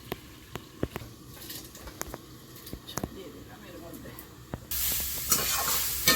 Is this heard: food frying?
yes